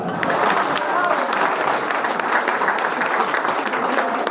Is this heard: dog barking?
no